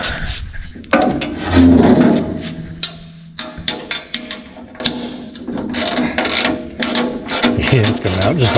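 Ratchet loosening a nut on an old CAT generator, a loud close series of rapid ratcheting clicks and sharp knocks with some grinding metal movement throughout.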